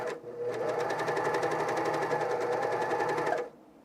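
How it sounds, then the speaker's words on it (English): A coverstitch sewing machine top-stitches underwear in one continuous, close, rhythmic whir lasting a few seconds before stopping abruptly, with no talk over it. "We're top stitching it."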